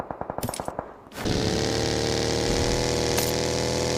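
Guns fired to welcome the New Year: a quick string of sharp separate shots, then a sudden loud continuous roar that holds steady to the end, close and dominant.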